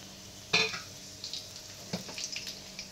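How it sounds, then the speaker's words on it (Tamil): Whole spices, cinnamon, cardamom, cloves, a bay leaf and dried red chillies, fry in oil in a pan, with a few sharp utensil scrapes and clicks over a faint, soft sizzle. "நல்லா கிண்டி விட்டுக்கோங்க. இந்த எண்ணெய் நல்லா ஃப்ரை ஆகட்டும்."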